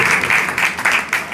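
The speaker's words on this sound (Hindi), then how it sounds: "ताली मारेंगे यीशु के लिए।" A church congregation, children among them, claps for Jesus in a brisk burst of close, slightly uneven applause.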